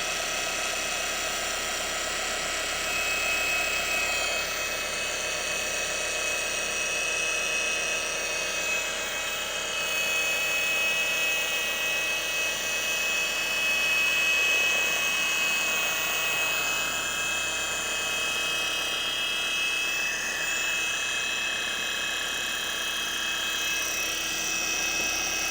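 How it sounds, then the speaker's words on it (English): Electric polisher buffing peeling plastic automotive A-pillar trim: a steady high-pitched whirring drone that holds constant for the whole stretch with slight swells in pressure, close and continuous, no speech. "Just making sure that I'm tilting the polisher and getting all of the surface."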